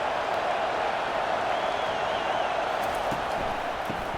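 Home stadium crowd at a college football game, Illinois Fighting Illini against Wisconsin Badgers, roars in a steady, loud, dense wash of cheering and noise that holds throughout with no pauses.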